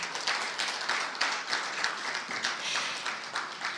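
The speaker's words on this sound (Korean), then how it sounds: "다시 한번 뜨거운 박수 부탁드립니다" Audience applause at the finals of a history and culture student speech contest, a dense, steady patter of many hands clapping at moderate distance, with no talking.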